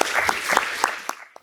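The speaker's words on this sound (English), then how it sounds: "let's give him a really warm round of applause" Brief applause from a lecture-hall audience welcoming Professor Fujihata to a panel on post-Western art, with scattered claps fading out over about a second and a half.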